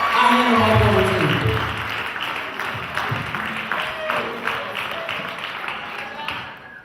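At a wedding reception, guests clap for a singer, a loud burst of applause that gradually thins out, with a few voices underneath.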